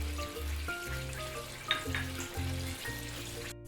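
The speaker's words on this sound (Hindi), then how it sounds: "तड़का लगा लेंगे इसको।" Tadka of green chilies, peppercorns, curry leaves and cumin sizzling steadily in hot oil for kadhi pakora, a continuous close crackling fry with a few brief stirring clicks and no talk.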